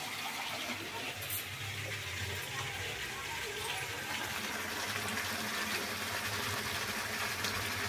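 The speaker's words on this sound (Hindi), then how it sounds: "अब हम इसमें पानी ऐड कर देंगे" Water poured into chicken masala cooking in a pan, heard as a steady, close, continuous gushing pour of liquid that lasts throughout.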